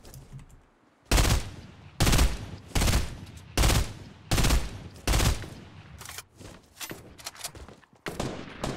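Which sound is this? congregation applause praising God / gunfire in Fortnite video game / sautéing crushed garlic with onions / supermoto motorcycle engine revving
gunfire in Fortnite video game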